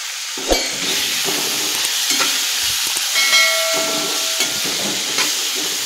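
Cluster beans stirred and fried with red chilli powder and spices in a pan, giving a loud, close hiss and sizzle with occasional spatula scrapes and knocks and no voices.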